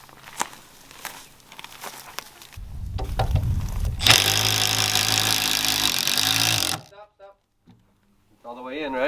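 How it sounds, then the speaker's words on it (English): A cordless screw gun whirs in a sustained, buzzing burst for a few seconds while driving a screw, preceded by clicks and handling noise, then stops abruptly. "It's not a drill. It's a driver? It's a screw gun."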